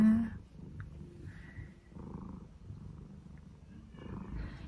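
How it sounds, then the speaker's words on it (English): A soft, low purr rumbles close by in gentle rhythmic cycles, quiet and steady, with a brief louder sound at the start. "just very purry, aren't you?"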